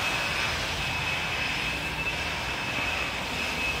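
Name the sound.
air compressor blowing out a fuel filter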